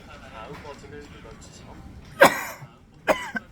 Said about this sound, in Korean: 기침이 나오네요